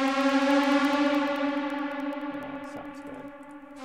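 An Ableton Live Operator synth riser with pitch bend pushed to maximum: a bright, buzzy, harmonically rich tone that holds steady and fades slightly, heard alone with no voices.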